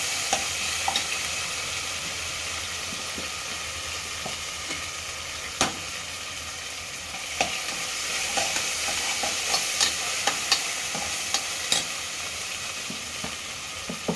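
Ginger garlic paste frying in a pan for chicken biryani makes a soft continuous sizzle, with occasional clicks and scrapes from stirring, faint and steady throughout.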